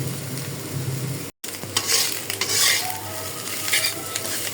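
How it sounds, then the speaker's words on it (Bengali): Bitter gourd frying in a pan as it is stirred, giving a loud, close sizzle with repeated metallic scrapes and clinks of a utensil against the pan, broken by a brief silent gap early on. "করলা ভাজিটা হয়ে গেছে, আমি এখন নামিয়ে ফেলবো"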